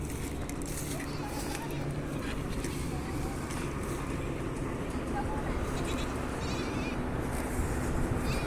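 Goats on a farm in the Philippines bleat faintly now and then under constant outdoor noise, with people talking nearby.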